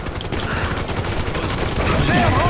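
A loud, continuous rattle of rapid gunfire from a gun in GTA 5 during a gang shootout mission, dense and sustained, with a voice speaking faintly underneath.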